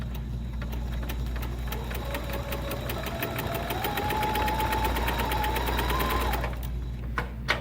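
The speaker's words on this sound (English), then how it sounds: "I'm gonna sew my bottom seam 1/4 inch away from" A sewing machine runs the bottom seam of a small key fob pouch, a fast, even stitching rattle, close and steady for several seconds before stopping with a couple of clicks.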